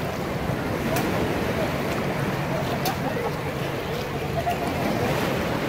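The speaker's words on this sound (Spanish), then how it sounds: "Ahí viene una ola." An ocean wave rolls in at a Florida beach with a broad, steady wash of surf and wind buffeting the microphone. The rush is continuous and fairly loud throughout.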